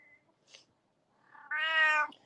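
A house cat lets out a short faint chirp, then one clear, loud, drawn-out meow close by in a quiet room.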